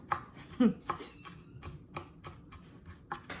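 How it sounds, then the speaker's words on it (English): A knife cubing vegetables by hand on a board, a string of soft, close, irregularly spaced chopping taps with no talking. "I rather cube it myself rather than washing the food processor."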